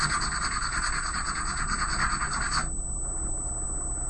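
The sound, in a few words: sanding a propeller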